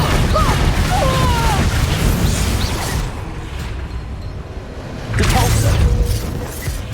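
Incendio fire spells in the Hogwarts Legacy video game erupt in loud roaring, crackling bursts during a chaotic battle, easing briefly before another blast flares up.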